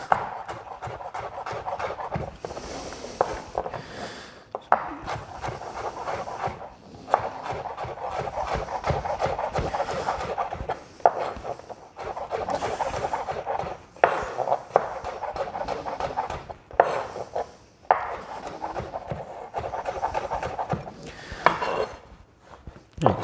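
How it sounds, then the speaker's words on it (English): A knife slices a leek into thin strips on a board, with close, brisk, rhythmic chopping strokes that run steadily with only brief pauses. "So I'm going to cut this into wee strips."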